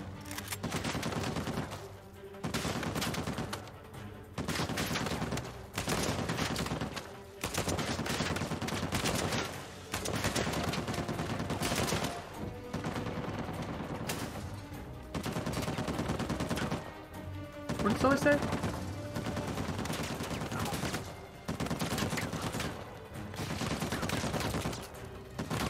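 Gunfire in the video game Uncharted 4: loud bursts of rapid shots and automatic fire, repeated in blocks separated by short pauses, with game sounds in between.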